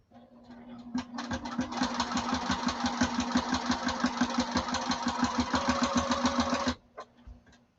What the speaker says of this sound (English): I'm going to sew to the inside of this at 1/8 of an inch to sew that second row